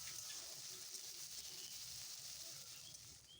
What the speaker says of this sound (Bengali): এরপর এর মধ্যে সামান্য একটু পেঁয়াজ বাটা দিয়ে দিলাম আর দিয়ে দেবো আদা রসুন বাটা। মশলাটা একটুখানি ভেজে নেব।